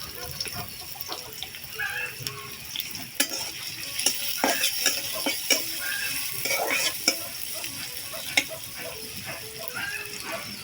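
Chopped onion and chili hit hot oil and are stirred in a pan, a close sizzle broken by sharp spatula scrapes and knocks, with chickens clucking faintly in the background.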